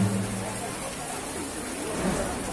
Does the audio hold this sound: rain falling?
yes